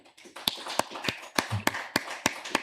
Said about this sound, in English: A round of applause for UCD.